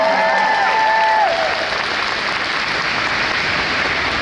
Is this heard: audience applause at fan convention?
yes